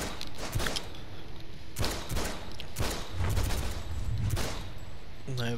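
Several sharp bursts of video game gunfire, spaced a second or so apart, ringing out over a steady background, with a voice speaking briefly.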